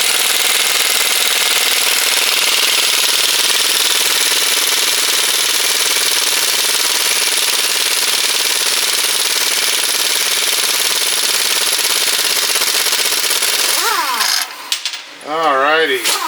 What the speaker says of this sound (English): letting the air compressor catch up just a bit